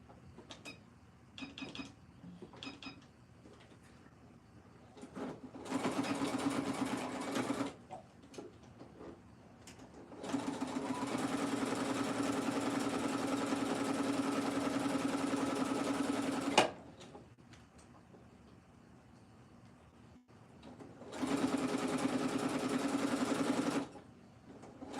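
A sewing machine stitches cow print shorts in three separate runs of steady, fairly loud whirring, with quieter pauses of handling between them.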